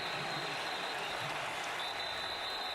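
A sellout football stadium crowd of more than 83,000 at an Auburn at Oklahoma game roars in a steady, dense wash of noise with a faint whistle-like tone running through it, with no pauses.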